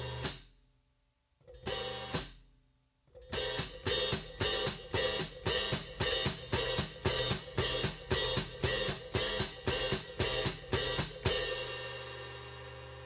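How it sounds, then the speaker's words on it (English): On a drum kit, a hi-hat is worked by foot: heel splashes let the cymbals ring together, then foot strokes close them. A few separate hits open into a steady run of about twenty rhythmic close strokes, ending in a ringing splash. "what I do is I bring up my foot, and then I hit it with my heel back here, just hard enough that the cymbals splash together"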